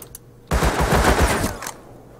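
A loud burst of rapid automatic gunfire rattles for just over a second during a multiplayer firefight in the video game Rust, then fades into quiet.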